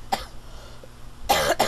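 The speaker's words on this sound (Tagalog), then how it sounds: "Iniintay ko sana mawala yung aking ubo kaso hindi" Someone coughs close by, a short sharp cough followed by a heavier double cough, against quiet room background.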